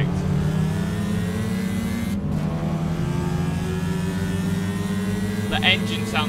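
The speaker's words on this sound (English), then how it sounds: "The engine sounds horrible." A Renault Clio Sport engine in the video game Gran Turismo 5 drones and revs continuously at a steady, buzzy pitch, with a voice talking over it.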